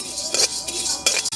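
Metal spoon stirring and scraping spices as they dry-roast in a pan for homemade masala powder, a few quick clinking scrapes over a soft continuous sizzle-like hiss.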